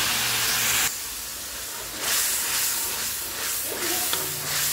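Green chili and tomato paste hit hot oil over toasted cumin, setting off a loud, steady hissing sizzle that swells after a brief lull and carries on without talk.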